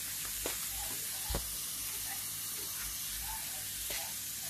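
Chili and garlic being dry-roasted in a pan give off a steady, soft sizzle and hiss, with a couple of brief scraping clatters as they are stirred.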